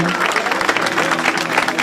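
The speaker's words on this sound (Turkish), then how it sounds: "Alkışlayalım." A crowd applauds steadily, a dense wash of clapping that holds at the same level throughout.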